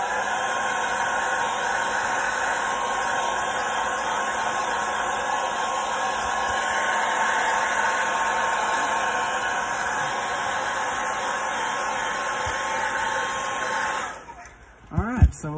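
Heat gun setting fingernail polish on a crankbait fishing lure, blowing with a steady loud whooshing hiss that continues evenly before cutting off near the end with a few handling bumps.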